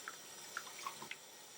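Water runs and drips in a sink while a wig or hair volumiser is rinsed by hand, with scattered light splashes and drops over a steady faint trickle, no voices.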